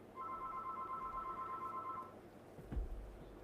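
Landline telephone ringing indoors, a steady electronic ring tone holding for about two seconds, then stopping over a low room hum, followed by a brief knock.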